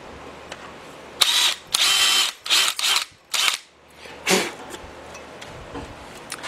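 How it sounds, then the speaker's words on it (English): A power drill drives a countersink into a Willys L-head engine block during a crack repair, cutting room for a pin shoulder in several short, loud whirring bursts separated by pauses. "we've got our countersink all set up. We're going to go in there and we're going to give a little room for the shoulder of the pin."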